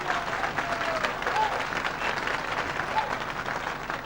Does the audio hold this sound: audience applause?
yes